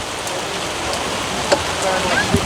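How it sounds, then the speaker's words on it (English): Steady rain hisses down continuously, a dense wash of falling water with a couple of faint knocks near the end. "it's pouring rain"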